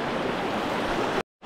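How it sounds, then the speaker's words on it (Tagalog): Strong river current rushing at a mountain river crossing on Mount Negron, a steady broadband roar of churning water heard up close, cut by a brief silent gap near the end. "Ang lakas ng alon."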